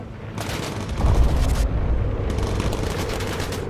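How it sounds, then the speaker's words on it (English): A downed fighter plane explodes in the video game Bomber Crew, a loud rumbling boom layered with crackling bursts that rolls on and stays dense over several seconds. "How can there be an explosion?"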